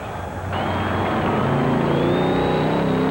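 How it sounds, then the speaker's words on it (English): A monster truck engine at a 1991 USHRA event in the Seattle Kingdome stadium roars loudly and revs up, its pitch climbing steadily as the truck drives with its front wheels lifted. "Wheeling around, the front wheels 4 feet in the air as Welch proves that he can get this thing off the ground."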